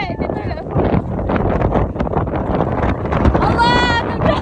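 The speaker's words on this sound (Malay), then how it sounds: "Angin dia kuat." Strong wind gusting at Huka Falls on New Zealand's North Island, a loud continuous roar buffeting the microphone throughout, with people talking over it.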